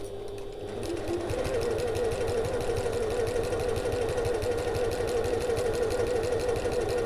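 A sewing machine runs steadily, stitching an evening bag in a fast, even mechanical rhythm for several seconds after a brief quieter start, close and fairly loud, with no talk over it.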